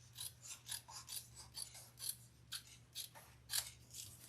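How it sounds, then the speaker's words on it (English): Scissors snipping away excess fabric from a handbag, about a dozen quiet, evenly spaced cuts in a steady rhythm, close up over a low constant hum. "Cut off any excess that you have"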